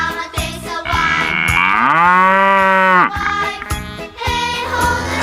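A cow moos in one long, loud, drawn-out call with a smooth rising and falling pitch, framed by brief jingling sounds before and after.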